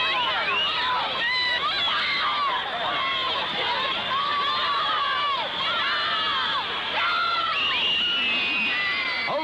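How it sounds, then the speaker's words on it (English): Crowd of Beatlemania fans, mostly young girls, screaming continuously at an airport awaiting a Beatles plane, a dense, shrill wall of shrieks and shouts that holds steady throughout. "And the screams break out long before the fourth Beatles plane gets in."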